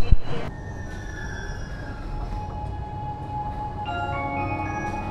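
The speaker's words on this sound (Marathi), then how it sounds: "जस्ट मेट्रो आले" A Mumbai Metro Line 3 train pulls into an underground platform with a steady rumble, long ringing tones from the wheels and motors, and a sharp clunk at the start.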